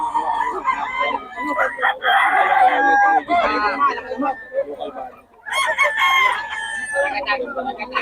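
Roosters crow loudly and repeatedly with some clucking mixed in, close by, with voices talking intermittently underneath.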